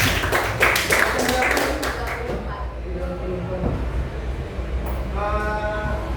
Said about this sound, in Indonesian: Tepuk tangan buat Novi